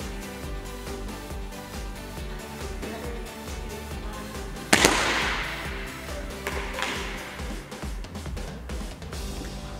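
A toy rocket without fins launches with a sharp whooshing burst, loud and close, rising out of steady background noise and trailing off into a rushing hiss.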